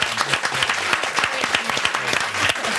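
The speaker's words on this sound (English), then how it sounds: "Let's give you a little round of applause for that" A studio audience on a television chat show breaks into steady applause, many hands clapping together at close range in a dense, even wash of claps that holds for the whole stretch without fading.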